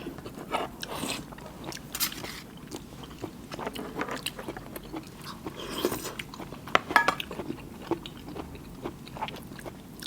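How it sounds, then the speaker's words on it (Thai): Close, wet chewing and crunching of a wild amanita mushroom curry with red ant eggs, with irregular bites and soft scrapes of a utensil, no talking. "เห็ดเพิ่นจะลื่นๆกรุบๆ นะพี่น้อง"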